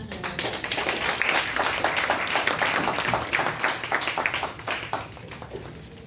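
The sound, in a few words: audience clapping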